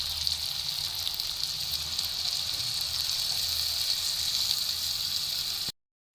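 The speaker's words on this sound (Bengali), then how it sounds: "এবার দেব পরিমাণ মতো জল।" Steady, loud sizzle as water is poured over fried, oil-separated spice paste in a pan for a Bengali mourala fish curry, running without a break for several seconds before stopping abruptly.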